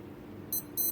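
Casio F201 digital watch alarm tone: two short bursts of shrill electronic beeping, close by, over a low background hum.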